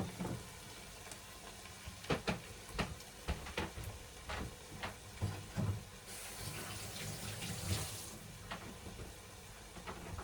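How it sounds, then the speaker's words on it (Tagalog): Shrimp broth pours and splashes into a cooking pot of ginataang taro leaves with tuna, a fairly faint liquid stream broken by intermittent clatters and knocks, with a brighter gush midway. "Lagyan natin ng sabaw. Sayang guys kasi sabaw ng shrimp."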